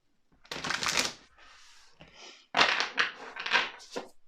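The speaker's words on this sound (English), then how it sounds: "let's just give me this deck a last shuffle" Tarot cards riffle and shuffle in several quick rustling bursts, close and crisp, with short pauses between the shuffles.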